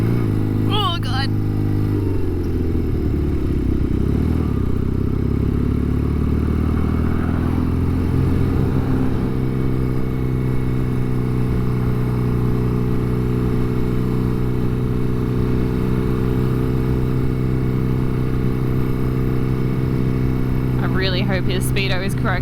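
An old motorcycle at highway speed, its engine droning steadily and loudly with a gear change and rising pitch early on, wind rushing constantly over the rider.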